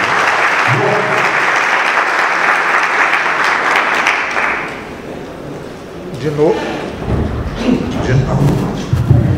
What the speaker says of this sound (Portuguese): Uma salva de palmas de boas-vindas